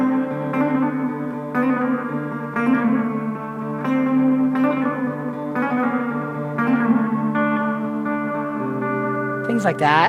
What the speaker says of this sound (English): With reverb, you can do the shimmer sound, and you can also do a modulated sound, or you can do your stock spring sound.